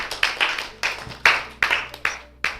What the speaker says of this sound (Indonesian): Tepuk tangan dong buat Konita